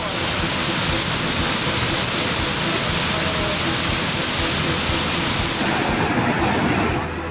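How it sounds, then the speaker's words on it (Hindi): A waterfall at Kedareshwar temple in Sailana, swollen after heavy rain, roars as a dense, continuous broadband rush of falling water, loud and steady throughout. "सैलाना के केदारेश्वर मंदिर में भारी बारिश के बाद ये झरना शुरू हो जाता है।"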